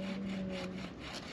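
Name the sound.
hand saw sawing wood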